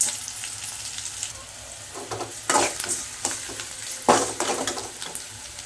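Curry leaves, garlic and onion fry in oil in a pan, a continuous close sizzle broken by a few louder bursts of stirring and scraping, with no talking.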